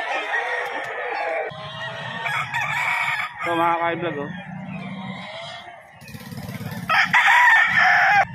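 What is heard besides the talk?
chickens and roosters crowing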